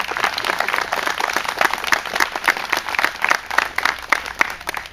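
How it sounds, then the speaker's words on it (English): Crowd at an outdoor Memorial Day ceremony in Senecaville applauding veterans, a dense patter of many hands clapping steadily at moderate distance. "Let's give a round of applause to the veterans here."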